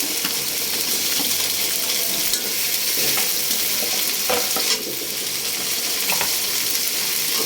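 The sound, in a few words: tomatoes added to frying onions, sizzling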